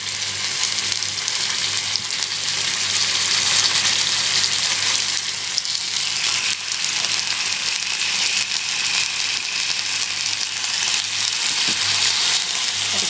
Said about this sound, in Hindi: 2-3 स्पून ऑयल डाल के अब इसमें मैं जो मैंने चिकन है रात को मैंने मिक्स किया था, इसको मैं फ्राई करूँगी थोड़ा सा।